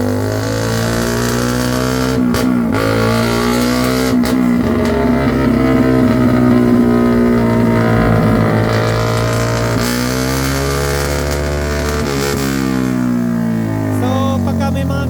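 A Suzuki Raider motorcycle with an open-pipe exhaust revs loudly up close, its raw engine note rising and falling through repeated throttle blips with sharp, choppy breaks.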